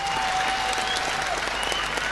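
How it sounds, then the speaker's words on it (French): Loud, steady applause from an audience at a live rap show, dense clapping filling the whole moment with a faint whistle-like tone running through it. "Vous pouvez les applaudir encore très très fort."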